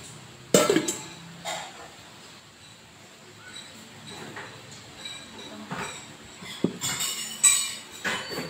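A metal utensil clinks and scrapes against a bowl while cake batter is mixed, with scattered sharp taps and a quicker cluster of clinks toward the end, close and moderately loud.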